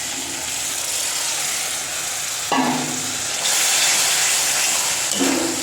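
Ginger, garlic, tomato and green chilli paste sizzles steadily in a hot pan, a continuous close frying hiss with brief stirring scrapes and a sharper burst of sizzle midway.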